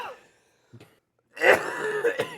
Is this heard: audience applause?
no